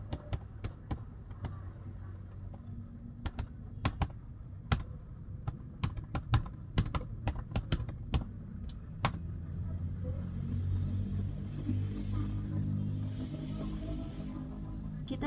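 Key clicks from a computer keyboard as switch port access VLAN commands are entered, sharp irregular taps in the first half over a steady low rumble that swells later, with no talking.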